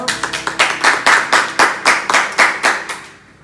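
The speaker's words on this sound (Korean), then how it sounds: "축복의 박수로 하겠습니다." A church congregation gives blessing applause, a run of about a dozen rhythmic, sharp claps in quick succession that fade out at the end, close and without speech.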